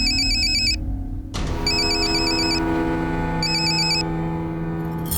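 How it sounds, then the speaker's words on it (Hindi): A telephone ringtone plays loud and close for an incoming call, with repeated bursts of a bright electronic melody pausing briefly between phrases over a steady background. "कोई दिल जले आशिक का फोन आ रहा है आपको"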